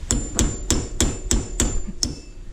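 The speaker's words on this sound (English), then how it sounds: "after you torque the axle nut, you want to take a punch and ding that end of the nut right into that groove" Sharp metal hammer blows on a punch staking a torqued axle nut into its groove on a 2006 Yamaha Kodiak 450 ATV, seven evenly spaced ringing strikes, close and loud.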